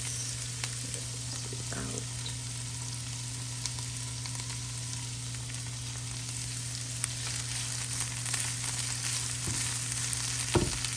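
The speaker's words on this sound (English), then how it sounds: "I'm gonna go ahead and add my poblanos. And we're gonna cook these until they're just kind of softened" Poblano peppers fry in a hot pan on high heat, giving a steady, even sizzle throughout, with a low hum beneath it and a few faint clinks and scrapes. No one speaks.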